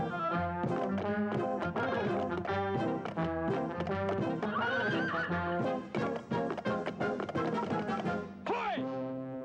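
Horses performing in a musical ride, with repeated neighs and whinnies and clip-clopping hooves over a continuous backing of music, fairly loud throughout with a rising whinny near the end.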